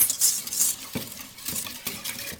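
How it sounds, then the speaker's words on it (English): Wet ingredients for pumpkin pancakes being stirred together in a bowl, soft scraping and light clinks of a utensil against the dish, close and fairly quiet. "I'm going to go ahead and mix it together."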